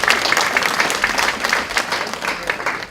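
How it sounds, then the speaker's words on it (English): A ballroom audience claps for the venue's owner in a full, even round of applause with scattered distinct claps, sustained throughout without speech. "Give him a round of applause."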